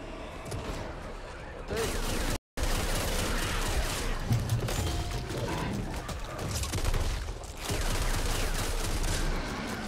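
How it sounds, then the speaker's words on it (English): Shotgun blasts ring out amid dense, noisy combat in the co-op zombie shooter Back 4 Blood, with steady gunfire and action clatter filling the clip and one brief dropout partway through. "Our shotgun is unbelievably powerful."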